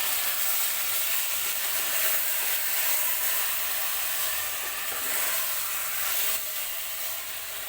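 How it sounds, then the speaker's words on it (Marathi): Steady sizzling and frying hiss of marinated mutton in a pressure cooker on high heat, continuous and fairly loud throughout, with faint scraping as it is stirred with a spoon. "मी मॅरिनेट केलेलं मटण कुकरमध्ये टाकून घेतलेलं आहे. हे चमच्याने व्यवस्थित मिक्स करून घ्यायचं आहे"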